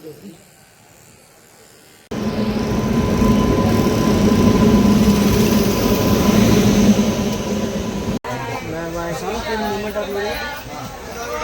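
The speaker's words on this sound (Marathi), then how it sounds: "ट्रेन आली." A loud, steady roar of a train rolling in fills most of the clip after a quiet start, with people talking over the rumble near the end.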